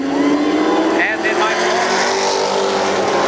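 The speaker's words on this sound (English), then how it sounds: "I believe these guys are ready to go, aren't they? They're revved up." Stock race cars rev at Columbus Motor Speedway before the 1996 Race of Champions, a loud continuous engine roar with a rising pitch sweep, while a commentator talks over it.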